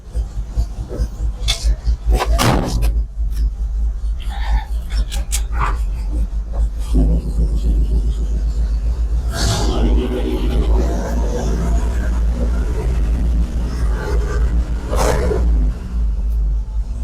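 A 1970 Ford F250 dually truck idles and rumbles as it is backed out of tight quarters, a low, constant engine drone with scrapes and knocks over it and people talking at intervals.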